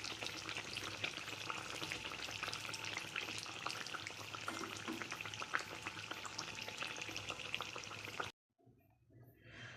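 Malpua batter frying in hot oil, a steady dense sizzle with bubbling crackle, close and loud, cutting off abruptly near the end before a faint rustle.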